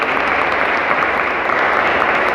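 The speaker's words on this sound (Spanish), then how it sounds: "le damos un fuerte aplauso" Loud, steady applause from an audience at a Spanish-language church talk, dense continuous clapping filling the whole stretch without letup.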